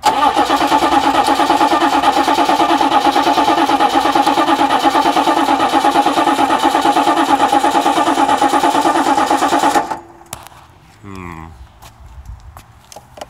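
A cold 6.5 turbo diesel engine cranks for nearly ten seconds, a loud, even, rapid starter churn, then catches and starts, dropping to a quieter idle.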